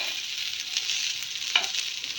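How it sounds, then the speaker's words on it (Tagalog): Fried rice with margarine and salt is stirred in a hot pan. It gives a steady, bright sizzle, with a scrape from the utensil partway through and no talking. "Ihalo lang natin ng mabuti para mahalo sa asin."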